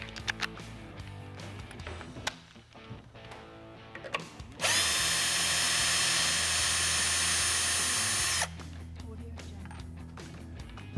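An AEG BBS 12C2 12V drill driver fitted with a right-angle attachment whirs loudly and steadily for about four seconds, set between quieter stretches of handling clatter and background music.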